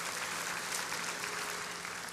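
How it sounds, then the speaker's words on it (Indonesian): Church congregation applauding during a New Year service, a steady dense wash of clapping filling the whole moment at moderate volume, with no voices over it. "kita beri tepuk tangan kepada Tuhan Yesus"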